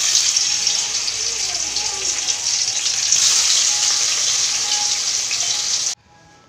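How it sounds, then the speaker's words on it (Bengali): Neem leaves sizzle and crackle steadily in hot oil in a pan, a bright hissing fry that stays loud and even before cutting off abruptly near the end. "নিম পাতা ভাজা করবো"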